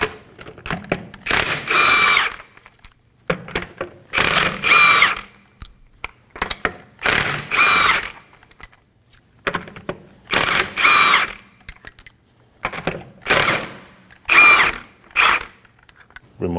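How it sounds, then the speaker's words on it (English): An impact gun with a 21mm socket spins lug nuts off the wheel of a Kia Sorento, loud repeated bursts of whirring rattle separated by short pauses, close and with no talk. "Using a 21mm socket, we're going to remove the lug nuts."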